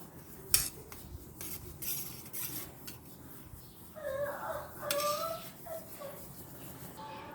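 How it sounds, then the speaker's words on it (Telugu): A spoon clinks and scrapes in a cup as ghee is stirred into the ingredients, with light taps and a brief metallic ring, faint and close. "ఇలా ఒక స్పూన్ నెయ్యి తీసుకొని వేసుకోవచ్చు. ఒక కప్ ఇలా మంచిగా కలుపుకొని తీసుకోవాలి."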